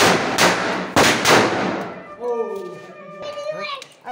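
Diwali firecrackers going off in two loud close blasts in quick succession, followed by crackling and a person talking.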